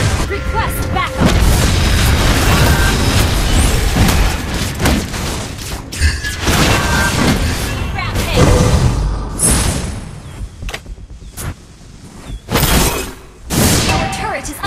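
A turret blows up in a Mobile Legends match with loud booming blasts and shattering crashes layered over dense battle noise, followed by a few sharp bursts as the fighting thins out.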